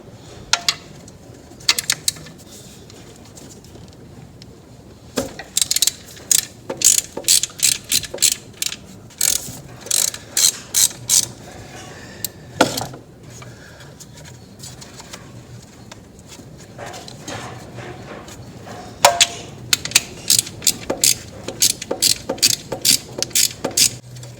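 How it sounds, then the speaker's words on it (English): A ratchet works loose the bracket nuts on a 7.3 Powerstroke engine in an OBS Ford truck, giving bursts of sharp rapid clicking separated by pauses, close and fairly loud over a quiet background. "Just take these nuts loose, get this bracket off."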